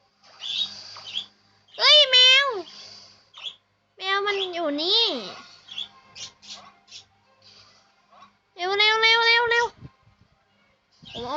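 Several high, drawn-out cat meows in the video game Tom and Jerry: Chase come one after another with pauses between, alongside faint chirpy tones and a bit of speech.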